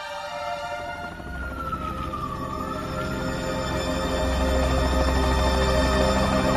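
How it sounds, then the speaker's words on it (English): Ambulance and fire engine sirens wail in the distance, one tone sweeping up and down, over a steady low rumble that grows louder toward the end. "There are ambulances and..."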